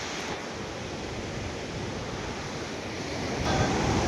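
Water rushes over a waterfall in Chamarajanagar district, India, heard as a constant broad roar of falling water, loud and unbroken, with no voices.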